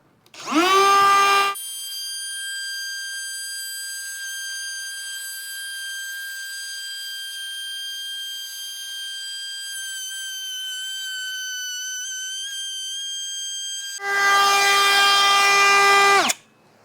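A cordless router cuts a 1/2 inch radius along the edge of a wooden entrance step. It starts with a loud high whine, holds a steady tonal hum, then gives a second loud burst near the end.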